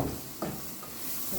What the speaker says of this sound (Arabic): نقلب يا جماعه